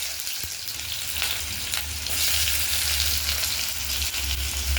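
Chopped onion hits hot, smoking oil with cumin and sets off a loud, continuous frying hiss that swells slightly after a couple of seconds and stays close and dense throughout, with no voices.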